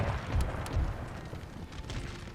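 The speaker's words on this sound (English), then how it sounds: "The cannons still fire on them." Cannon fire in the Napoleon Total War battle game, a series of dull, heavy booms and rumbling blasts rolling one after another over a constant low battlefield din.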